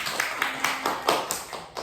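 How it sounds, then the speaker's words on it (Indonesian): Rhythmic clapping, a steady series of sharp claps about five per second, close and fairly loud. "Boleh tepuk tangan dulu tuh"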